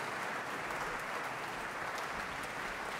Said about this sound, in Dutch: componist Carmiet Verdaal, die nu langs mij loopt om op het podium applaus in ontvangst te nemen.